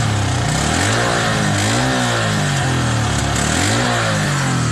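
A Honda XRM125 Fi motorcycle engine with a hard-start fault running loud and close, its pitch rising and falling in uneven revs and surges.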